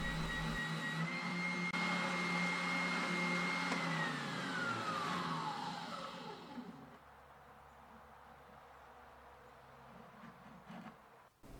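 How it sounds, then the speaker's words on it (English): A round spindle sander shapes the curved transition from the end of a bass guitar's fretboard to the body: a steady motor whine that spins down in pitch and fades to quiet, leaving faint room noise. "I will also use the round spindle to make a curved transition from the end of the fretboard to the body."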